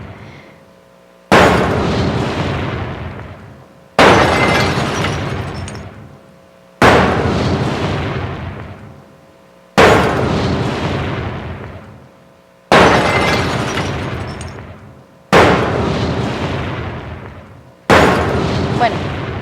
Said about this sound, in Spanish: Yo lo que hice fue agrupar 4 disparos y adicionalmente puse 4 sonidos de escombros